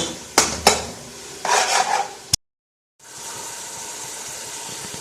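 Diced potatoes and minced meat stir-fried in a pot for an aalu qeema, with a few sharp utensil knocks and a scraping burst, then a brief gap before a steady close sizzle.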